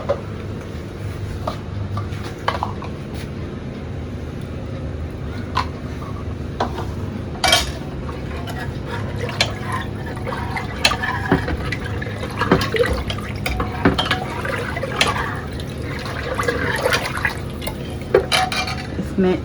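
Mutton nihari paste being stirred with water in a pot, with wet sloshing, scraping and clinks of a spoon against metal repeating irregularly and close by.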